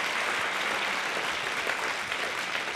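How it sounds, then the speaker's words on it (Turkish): Audience applause welcoming a guest onto a Turkish open-microphone talk show, a steady, full burst of clapping from a seated crowd that fills the space without pause. "Alkışlarla konuğumuzu davet edelim."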